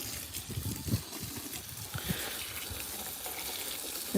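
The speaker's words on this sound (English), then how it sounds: "A bit of fresh water, rinse the net off" Fresh water from a tap gushes and splashes steadily over a pool skimmer net being rinsed, a close, continuous running sound with small irregular splatters.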